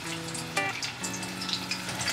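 Cauliflower for gobi manchurian deep fries in hot oil at home, a steady close sizzle and bubbling with a brief louder splash of crackle partway through.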